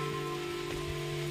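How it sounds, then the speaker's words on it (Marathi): Monsoon rain falling steadily during a trek up Rajgad fort, a continuous close hiss of rain on surfaces with faint tonal hum beneath and no talk. "पाऊस आलाय।"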